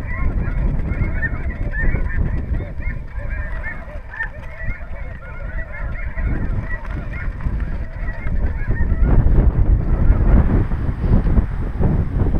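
A large flock of snow geese calls overhead during a March hunt in South Dakota, a dense, constant chorus of honking that rises and falls, with strong wind buffeting the microphone.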